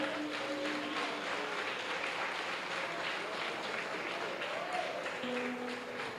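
A church congregation applauds during a Lord's Supper service, a dense steady wash of many hands clapping at moderate distance, with faint tones of music sustained underneath.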